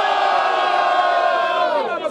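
A large crowd at a freestyle rap battle in São Gonçalo, Brazil cheers and shouts loudly and continuously, a dense roar of many voices that holds steady then tapers slightly at the end.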